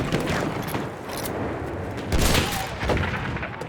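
Battlefield 1 video game combat with machine gun fire, a dense continuous rattle of gunfire and booms filling the whole stretch, loud and steady without letup.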